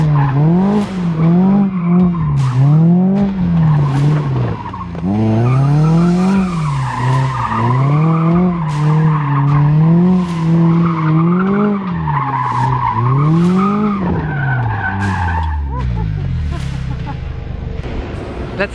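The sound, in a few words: Mazda Miata ND doing a one-hand drift donut, tires skidding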